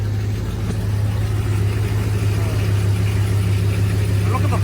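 A car engine runs steadily with a strong low drone and even idle, no clear rev surge evident, loud and close throughout.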